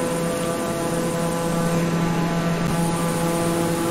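A small propeller airplane climbs after takeoff from Guatemala City, its steady engine drone heard from inside the cabin, loud and unbroken throughout.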